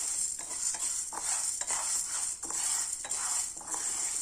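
Whole urad dal being dry-roasted in a pan, a steady dry rattling hiss of lentils stirred and scraped with a spoon, repeating in regular strokes throughout, close and fairly quiet with no talking.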